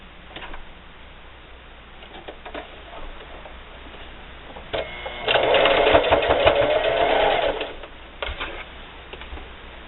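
A sewing machine stitches binding onto a Halloween hexagon quilted table topper with a quarter-inch seam, a steady whirring burst through the middle stretch, bracketed by quieter handling ticks and clicks.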